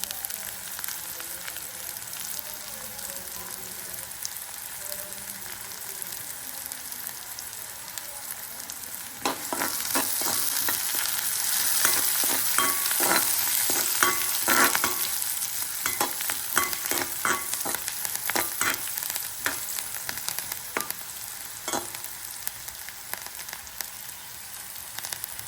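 Chopped onions and curry leaves fry in a pan for a Tamil conch curry. A continuous close crackling sizzle swells louder partway through, with rapid popping and occasional stirring scrapes.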